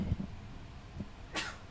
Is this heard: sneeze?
yes